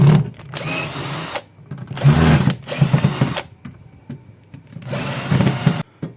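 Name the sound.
sharpening a saw with a wire grinding wheel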